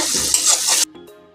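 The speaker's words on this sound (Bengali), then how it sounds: "পেঁয়াজটাকে এখন আমি লাল করে ভেজে নেব" Chopped onions fry in hot oil in a pan, a loud, dense sizzle that runs for under a second before cutting off abruptly to near quiet.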